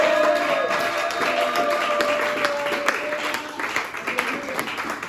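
A church congregation applauds at a worship service in Orléans, a steady, moderately loud wash of clapping sustained throughout, with voices and singing mixed underneath.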